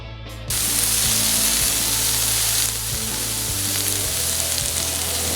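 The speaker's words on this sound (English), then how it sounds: "Nice sizzle." Oil sizzles loudly and steadily on a hot grill while cheesesteak is being made, a dense continuous frying hiss with a slight dip partway through and no voices.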